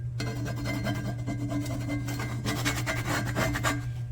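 Stuck food scraped off a Lodge pre-seasoned cast iron skillet, giving a steady close rubbing, rasping scrape that runs continuously with repeated strokes and grows slightly busier toward the end.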